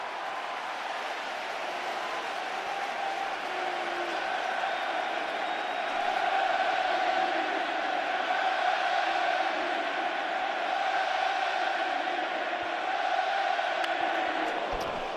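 Large baseball stadium crowd at an NLDS playoff game, Brewers at Cubs, chanting a pitcher's name in unison; a steady, far-off roar of massed voices that swells slightly and holds for the whole stretch.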